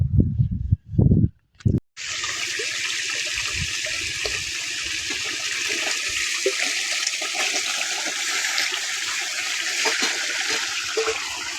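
Irrigation water rushing through a field channel, a loud, steady, broad gushing that starts abruptly after a few brief low thumps and continues unbroken and close.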